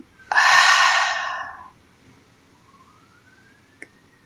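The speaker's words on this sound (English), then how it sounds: "breathing in into your belly, all the way out" A single deep breath drawn into the belly and let all the way out, heard as a strong close rush of air that tapers off into near silence.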